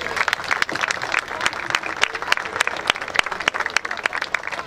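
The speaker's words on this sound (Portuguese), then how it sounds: "Um aplauso para eles." An audience applauds a folk dance troupe at a national world-dance gala, a dense, sustained wash of clapping from a large crowd with sharp individual claps standing out, loud and continuous from start to finish.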